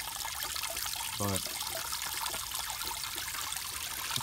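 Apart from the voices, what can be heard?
water trickling into guppy pond tubs during water change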